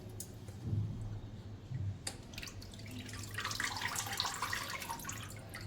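Water sloshes and drips in a basin as mandeli fish are rinsed to remove loose scales, with splashes and a low hum beneath, no talking.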